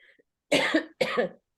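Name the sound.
cough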